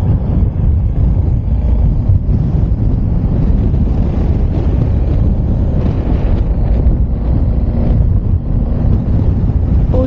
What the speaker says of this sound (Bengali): বরফে ঘেরা পাহাড়, আর এত হাওয়া চলছে, বাইককে নড়িয়ে দিচ্ছে